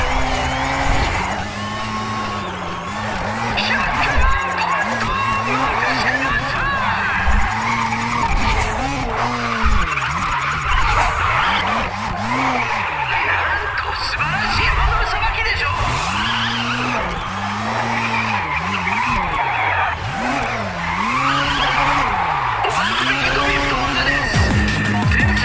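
Mazda RX-7 drifting in the racing video game Grid, with a steady loud engine drone that rises and falls with each slide and continuous tire squeal running underneath throughout.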